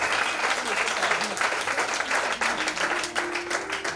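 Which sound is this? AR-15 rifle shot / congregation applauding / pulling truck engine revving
congregation applauding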